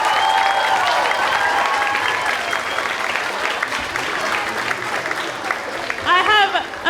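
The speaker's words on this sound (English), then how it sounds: "I think we could give one more round of applause to our incredible cast." Audience applause for a school drama club's cast fills the hall with steady, loud clapping, while cheers and whoops rise from the crowd and a few high shrieks break out near the end.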